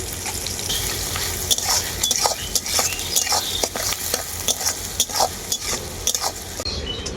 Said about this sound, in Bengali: পেঁয়াজটাকে আমি খুব ভালো করে ভেজে নিয়েছি